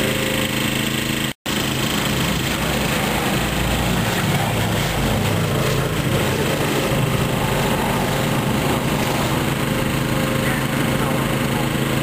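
A World War 2 aircraft engine, such as a Spitfire or Hurricane, drones loud and steady at an airshow, with a dense, rough roar that is broken only by a split-second dropout.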